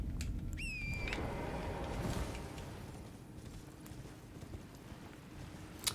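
A horse gallops in Elden Ring through the Siofra area, its hoofbeats forming a steady, fairly loud clip-clop over a dense game soundscape, with a brief whistling tone early on and a sharp click near the end.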